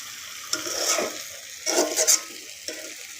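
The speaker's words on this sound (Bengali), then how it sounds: "ভেন্ডি ভাজি করতেছি, ভেন্ডি আর আলু মিক্স করে" Okra and potato fry together in a pan with a soft, continuous sizzle. Several distinct spatula scrapes and stirs land over it, close by.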